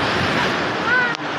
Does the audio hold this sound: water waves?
yes